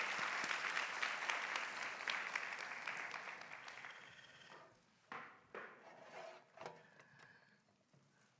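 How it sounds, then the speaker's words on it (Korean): A church congregation at a Sunday worship service applauds loudly for about four seconds, then the clapping fades into a few scattered late claps and small knocks before quiet. "우리 하나님께 영광의 박수 올려드리겠습니다."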